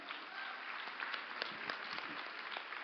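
An audience at a hotel conference closing session applauds steadily, a broad even wash of clapping heard from a little distance with no voices over it.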